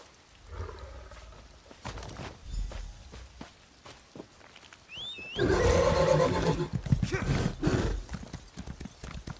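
A horse mount in the video game Elder Scrolls Online, High Isle, clops along with hoofbeats, then lets out a loud, close neigh that rises and trails off into continued movement.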